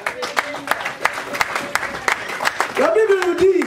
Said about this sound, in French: Acclamons pour le Seigneur bien-aimé